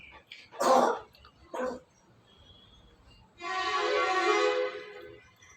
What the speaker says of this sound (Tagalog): Oh, may ubo na naman yung anak ko.